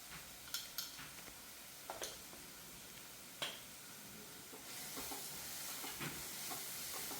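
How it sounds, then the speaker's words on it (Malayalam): Spices are stirred into kadala curry in a pan, with a spoon tapping and scraping in a few sharp knocks before a soft, steady sizzle rises; quiet and close, with no talking. "എന്നിട്ട് നന്നായിട്ടൊന്ന് മിക്സ് ചെയ്യാം."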